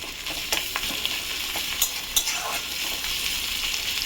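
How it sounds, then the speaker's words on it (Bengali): Onion frying in leftover fish oil in a pan on a gas flame, a steady close hiss of sizzling with scattered sharp crackles and faint stirring scrapes, no voices. "ওই মাছের তেলের এতে একটা বড় মতো পেঁয়াজ দিয়ে দিয়েছি। পেঁয়াজটা ভেজে নিয়ে ভালো করে গ্যাসটা জ্বলে দিলাম।"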